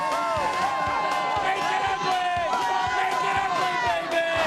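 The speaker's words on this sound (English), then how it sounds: "This crowd is in a tizzy." A football stadium crowd roars and cheers after a touchdown, a loud sustained mass of voices with rhythmic pulses and shouts rising and falling throughout.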